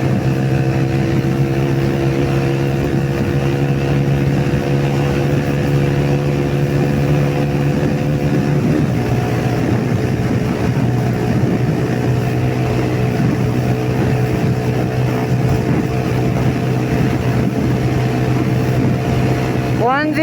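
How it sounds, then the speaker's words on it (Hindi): A modified Yamaha YBR motorcycle engine revs hard while accelerating in fourth gear toward about 100 km/h, a steady droning engine note that shifts partway through, heard up close and loud over wind with no talking. "और अभी मैं बाइक को खींचता हूँ अगेन।"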